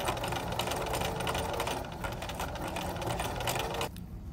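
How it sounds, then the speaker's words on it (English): A sewing machine runs steadily, edge stitching close to the selvage of quilting fabric with a straight stitch, a continuous mechanical whir that stops abruptly near the end. "you're going to edge stitch close to the selvage edge, not the cut edge, using a straight"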